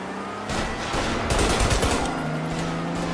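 Gunfire in the 1930s-era crime game Mafia, a burst of several rapid shots starting after a short quiet lead-in and continuing as a dense, loud volley over low game ambience, with no talk.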